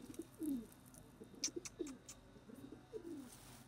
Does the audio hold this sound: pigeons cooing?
yes